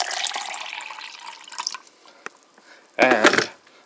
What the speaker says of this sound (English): And then you pour in the water.